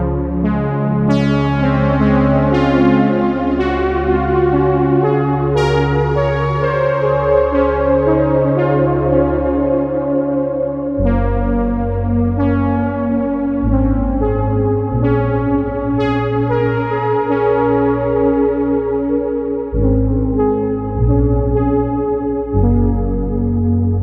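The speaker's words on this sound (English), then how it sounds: "now with the Big Sky enabled" A synth sound in Logic plays through a Strymon BigSky reverb plugin on its cloud algorithm: a sustained bass line and a melodic line shift chords with long, lush washing tails. It is loud and continuous, with no talking.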